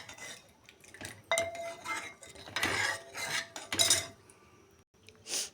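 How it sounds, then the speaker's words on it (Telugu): A spoon scrapes and clinks against a metal pot while ginger paste, green chilli, turmeric and tempering are mixed together, giving irregular close scraping strokes and metallic taps, with no talk. "మంచిగా కలపాలి."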